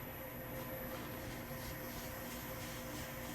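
A KYS Pro Baker 7+ spiral mixer runs at 200 RPM with a maximum batch of dough, giving a steady, even motor drone with a faint high whine, continuous and unchanging throughout.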